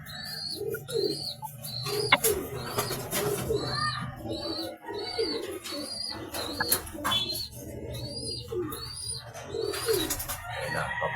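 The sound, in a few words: racing pigeons cooing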